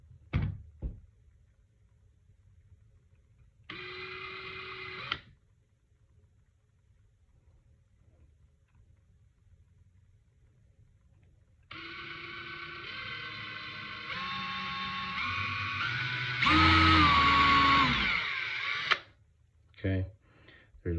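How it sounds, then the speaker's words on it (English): A power drill bores holes in a handmade swimbait. It comes as a short burst, then a longer run of whirring that rises in pitch as it speeds up and strains. Quiet gaps and brief clicks separate the bursts. "I'm gonna drill these holes out real quick"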